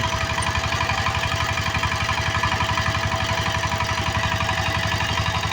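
A tractor fitted with a rotary tiller runs at a steady pace, its engine making a loud, rhythmic, throbbing knock close by, with no talking.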